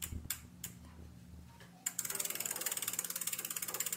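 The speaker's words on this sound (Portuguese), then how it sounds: "Esse é o som das rodas de uma bicicleta." A couple of soft knocks, then a rapid, even ticking of bicycle wheels freewheeling, close by and steady until the end.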